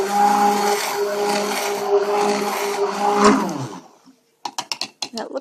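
An electric mixer whirs steadily at close range while blending a cold process soap batter, its motor humming for several seconds before switching off, followed by a few light clicking knocks.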